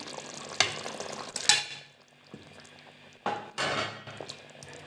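Chicken being added to a masala base for biryani, with sharp clatters of a utensil against the pan, a stirring scrape and a soft sizzle that dies down and then swells again, heard close and with no talk.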